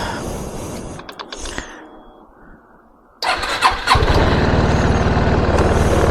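A Yamaha Xmax 250 scooter engine, just rebuilt, whirs on the starter, dips to near quiet, then catches on the first try and settles into a loud, steady idle close by.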